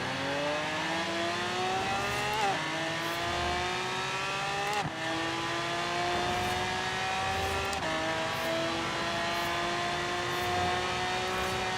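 Car engine in the racing game Forza Horizon 3, set on Australian streets, accelerating steadily through the gears, with rising whines that break at each upshift about every two and a half seconds, loud and close throughout.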